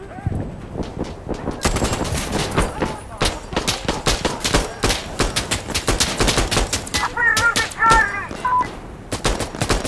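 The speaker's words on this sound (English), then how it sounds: "I'm under fire from many angles." Rapid bursts of automatic gunfire in an Insurgency Sandstorm match, loud and close, with sharp repeated shots nearly continuous throughout and brief beeping game tones partway through.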